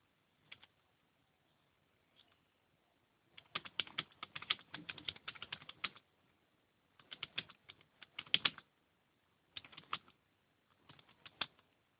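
Keys clatter on a computer keyboard as text is typed in quick irregular bursts separated by short pauses, close and fairly quiet in a still room.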